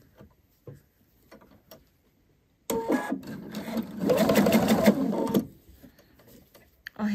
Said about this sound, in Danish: Og så skal jeg sy over til den anden side.